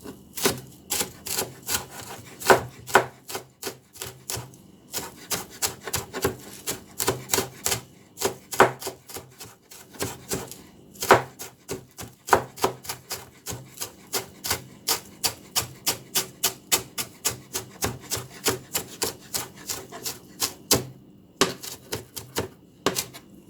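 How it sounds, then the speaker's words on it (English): Scallion chopped with a knife on a board, a long run of rapid, evenly spaced sharp chops close up, with a few brief pauses between bursts. "Gonna cut up some scallion."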